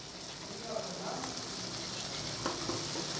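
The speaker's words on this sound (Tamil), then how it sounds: "நல்லா பச்சை வாசனை போகிற வரைக்கும் நல்லா வதக்கணும்" Ginger garlic paste sautéing in a pan for a paneer gravy, giving a steady, moderate sizzle with occasional soft stirring scrapes, and faint speech underneath.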